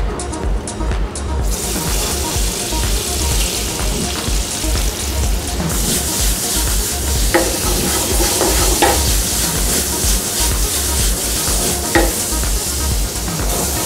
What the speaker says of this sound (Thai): พอน้ำมันร้อนแล้วอันนี้จะใส่พริกลงไป